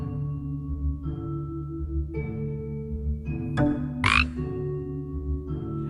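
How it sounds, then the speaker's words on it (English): Frogs croak in The Storyteller video game, a series of separate throaty croaks spaced about a second apart over a soft tonal game background, including one longer rasping call near the end. "the witch turns Snow into a frog."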